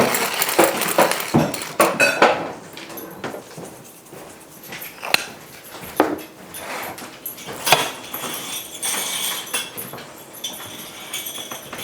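Sausage being stuffed into halved squash in a pan, heard as a run of close clinks, scrapes and soft knocks of utensils against cookware, busiest at the start with scattered sharp taps afterward and no talking.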